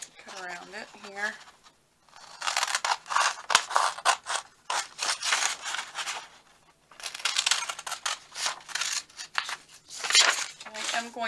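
Scissors snip and slice around the edges of decorative craft paper for a hanging tag, in repeated close, crisp cutting bursts separated by short pauses.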